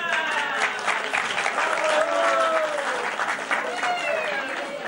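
Wedding guests at a church wedding ceremony burst into loud, sustained applause that fills the room, with a voice carrying over the clapping.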